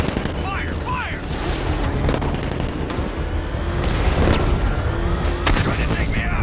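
Rapid gunfire from the Batmobile in Batman Arkham Knight, a dense, loud barrage of bursts and booms over roaring engine noise, with voices shouting beneath.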